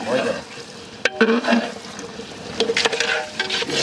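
Tamarind extract poured into frying brinjal in a village kitchen, setting off a bright sizzle with stirring scrapes and a few sharp clatters of the spoon against the pan, moderately close.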